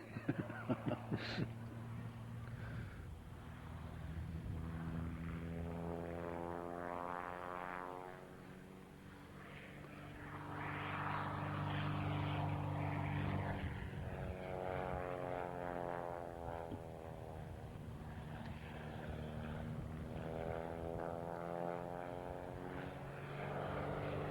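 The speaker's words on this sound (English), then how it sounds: "A very stable aircraft at low speeds." A propeller aircraft passes low and slow at an agricultural aviation reunion air display, its steady engine drone rising and falling in pitch over about twenty seconds, loud and continuous without a break.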